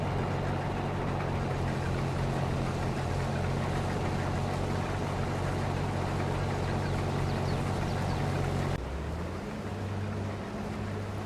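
A combine harvester engine in Farming Simulator 22 drones as a steady, loud low rumble, then shifts to a different, lower engine tone near the end.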